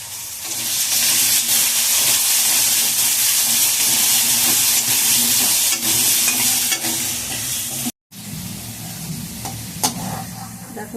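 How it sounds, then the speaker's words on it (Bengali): Potatoes with turmeric fry in a pan with a loud, continuous sizzle and hiss while a utensil stirs and scrapes, close up, with a brief cut in the sound near the end before the frying resumes. "আলুগুলোকে একটু ভেজে নিই লাল লাল করে একটু হলুদ দিয়ে দেবে"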